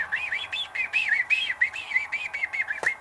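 A voice imitates a pet bird's chirping, a rapid run of high, looping whistled tweets repeated close up, ending with a brief click.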